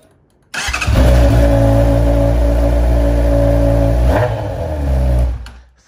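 A Honda Hornet motorcycle on its original exhaust starts up and revs close by, a loud steady drone held for several seconds with a brief surge near the end before cutting off.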